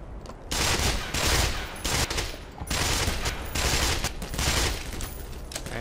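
Gunfire in a Half-Life mod for Minecraft, with repeated loud bursts of rapid shots in several volleys separated by brief pauses, close and dominant, with no talking.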